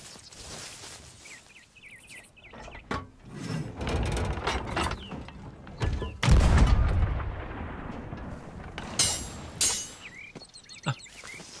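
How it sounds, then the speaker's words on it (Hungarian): Ship cannons firing in the pirate video game Sea of Thieves, a few deep booming blasts at moderate distance among scattered thuds and game effects, with one heavy shot standing out midway. "Itt van fönt valami, hallod? Egy ágyú."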